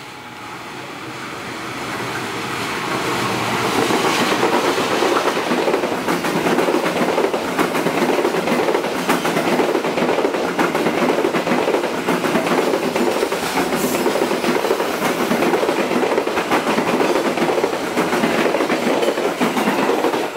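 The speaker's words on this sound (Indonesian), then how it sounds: "kereta api Jayabaya melintas langsung di stasiun Sukorejo" The Jayabaya passenger train roars past at close range without stopping at Sukorejo station, a loud continuous rumble with rhythmic clacking of wheels over rail joints, building quickly and holding steady.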